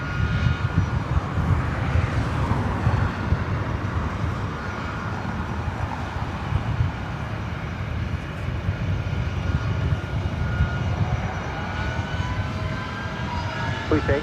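Boeing 757-200 jet engines roar loudly and steadily near the runway at LAX, a dense continuous rumble with a rising whine, and a voice breaks in faintly at times.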